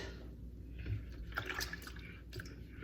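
Water in a large pitcher, mixed for strawberry tea, is stirred with soft close sloshing and light splashes, faint and intermittent with a few brief clinks.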